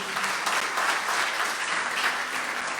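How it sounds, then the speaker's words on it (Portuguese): A church congregation applauds steadily throughout, a dense, even wash of clapping from many hands with no pauses and no talking. "Aplauda Ele, que Ele merece."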